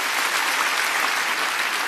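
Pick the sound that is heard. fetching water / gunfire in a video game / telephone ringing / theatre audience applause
theatre audience applause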